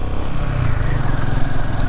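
A motorbike rides along a road in Ladakh, its engine giving a close, loud, continuous throbbing drone with slight surges, heard alone without talk.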